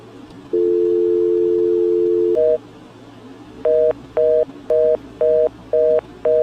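An old phone-company off-hook tone from a landline left off the hook: a steady, loud, two-pitch electronic tone holds for about two seconds, then switches to a higher tone followed by six short, evenly spaced beeps after a brief pause.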